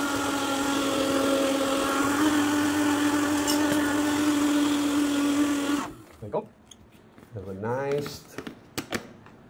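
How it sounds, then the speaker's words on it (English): Blender running on a Herbalife nutrition shake, a loud steady motor whir that stops abruptly after about six seconds, followed by brief clatter and handling sounds. "then just put it onto the blender for about"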